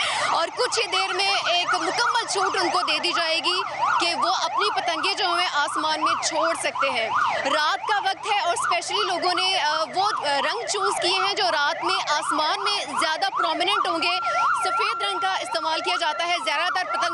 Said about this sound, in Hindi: आप मेरे पीछे आवाज़ सुन रहे हैं एम्बुलेंस की